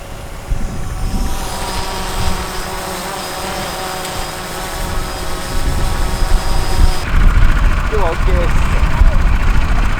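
A small camera drone flies over the Japanese countryside at Hakushu, giving a steady high-pitched whine with engine-like droning, while voices talk nearby and the sound grows busier toward the end.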